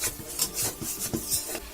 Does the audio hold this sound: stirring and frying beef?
yes